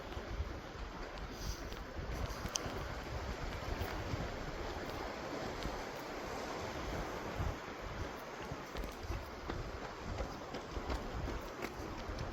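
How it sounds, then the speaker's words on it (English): Gentle sea waves wash softly onto the shore in a calm, continuous low hiss and burble, faint and steady, with light wind and no talking. "just have the sound of the waves"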